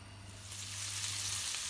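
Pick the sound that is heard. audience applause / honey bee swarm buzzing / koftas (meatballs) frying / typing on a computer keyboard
koftas (meatballs) frying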